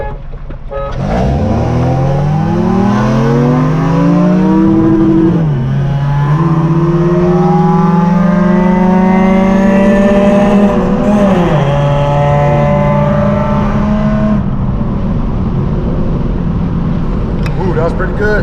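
A Lexus IS300 accelerating hard, engine revving up through a long rising pull, dropping back and climbing again with a strained shift, loud and close throughout, settling into a steady high drone before cutting off.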